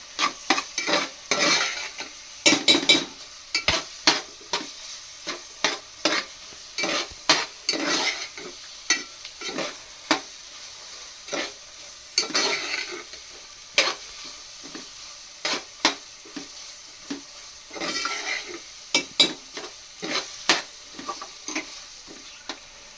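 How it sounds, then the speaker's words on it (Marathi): Onion sautéed with ginger-garlic paste in a pan for pav bhaji, a steady sizzle under repeated scraping strokes of a spoon stirring the pan, close and continuous, with no talking. "आता त्याच्यामध्ये आलं लसूण पेस्ट टाकूया आणि 2-3 मिनिटाला कच्चेपणा जाईपर्यंत थोडा वेळ परतत खाऊया आपण."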